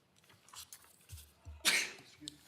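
A single sharp sneeze bursts out during a San Joaquin County Board of Supervisors regular meeting, preceded by faint coughs and throat noises in a quiet room.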